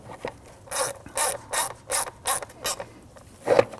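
A tool tightens the mass air flow sensor screws on a 2009-2017 Volvo XC60 in short, evenly spaced ratcheting strokes, about seven close rasping bursts with brief pauses between them.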